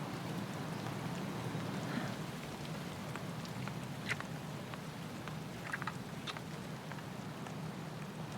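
Steady rain falls throughout, a dense even patter with occasional sharper drops hitting a surface, moderately loud and continuous with no speech.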